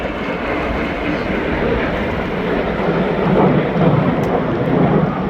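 Red Arrows display jets roar overhead during a synchro pair manoeuvre at a Blackpool air show, a loud broad rumble that swells slightly toward the end amid wind buffeting.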